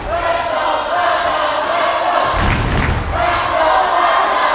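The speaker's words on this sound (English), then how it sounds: "Crowd getting loud." A loud, constant crowd roar fills a high school volleyball match between Central and Putnam, swelling briefly into a burst of cheering near the middle.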